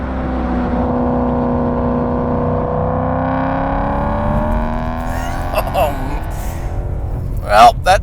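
Supercharged BMW M3 engine revving hard, a loud sustained wail with rising pitch that dominates the clip, followed by a couple of sharp bursts near the end.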